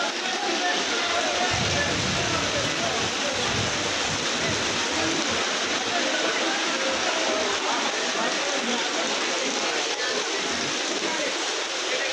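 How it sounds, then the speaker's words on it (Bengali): Heavy rain pours down steadily at Tarakeswar railway station, a dense, loud wash of noise that never lets up. "প্রচণ্ড জোরে বৃষ্টি হচ্ছে"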